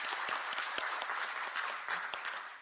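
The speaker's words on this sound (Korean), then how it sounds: "다시 한번 연대와 격려의 박수 크게 보내주시면 감사하겠습니다." An audience at a talk concert on press freedom claps in solidarity and encouragement, a full, steady burst of many hands with a few sharper individual claps standing out.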